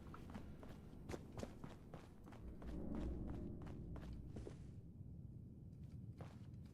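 A player character's own footsteps in a video game, a soft, steady run of light steps close by, quiet and without talk.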